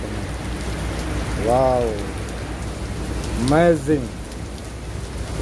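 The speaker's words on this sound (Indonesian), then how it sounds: "Ada suara guntur juga di atas, teman-teman." Heavy rain pouring steadily in Jeddah, Saudi Arabia, a dense continuous hiss throughout, while a person's voice exclaims briefly twice over it; no distinct thunder stands out.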